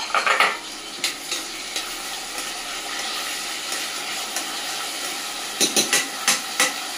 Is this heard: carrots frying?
yes